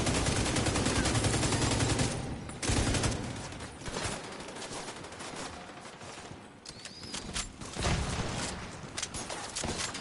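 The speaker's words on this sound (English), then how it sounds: "Who's shooting?" Heavy, sustained gunfire fills a firefight in the video game The Division 2, with dense overlapping bursts and rapid automatic volleys that briefly drop out before resuming loud and close.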